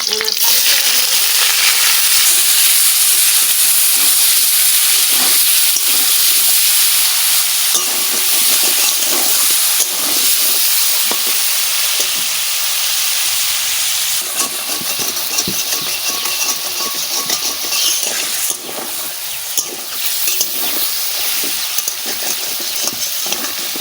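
Paneer cubes fry in well-heated oil for palak paneer, giving a close, steady sizzle and hiss that runs unbroken throughout with faint stirring.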